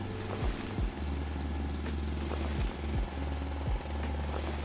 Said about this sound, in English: A lot of drilling.